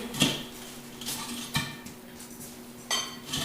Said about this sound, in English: Then you put this flat spoon in there, and you just keep working around that bead